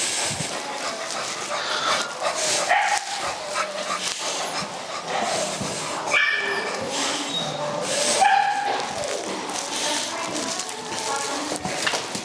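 A dog yips, whimpers and barks in scattered bursts over several seconds, close by, with people talking throughout.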